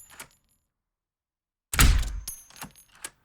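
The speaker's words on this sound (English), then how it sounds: "make the sound even more like a game gunshot or Hollywood gunshot or sci-fi gunshot" A gunshot effect built from scratch in a mixing session, punched up toward a game or Hollywood style: one sharp, loud, booming blast with a decaying tail, followed by a few softer clicks, with quiet before it.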